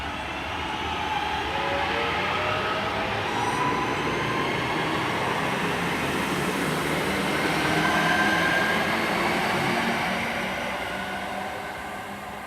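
A Class 323 electric train pulls out of Selly Oak station, its steady rumbling roar swelling slightly and then easing away, with no talk over it.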